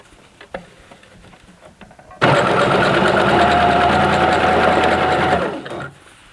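A home sewing machine runs steadily for about three seconds, stitching elastic onto a leotard, with a loud rapid mechanical whir that winds down at the end, framed by quieter handling taps before and after.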